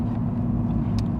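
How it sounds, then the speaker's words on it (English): An Aston Martin Rapide S engine rumbles low and steady as the throttle lifts and the automatic gearbox prepares to downshift, heard from inside the car with a faint click near the end and no talking. "we're just gonna lift off the throttle now, simulate slowing down. And it's gonna change down to"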